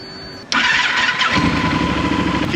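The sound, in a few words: motorcycle engine starting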